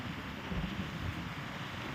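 Strong cold wind gusts at a beach resort in Pagudpud, Ilocos Norte, a steady broadband roar buffeting the microphone with faint surf beneath, continuous and loud with no talking.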